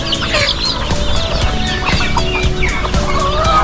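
Chickens cluck steadily and densely outdoors under shady mango and malunggay trees, with overlapping calls from several birds at close to moderate distance and no talking.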